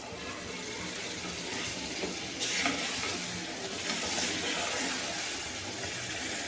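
Ground masala being stirred into oil for a mushroom curry in a pan, a steady close frying sizzle with scraping and stirring that brightens briefly partway through.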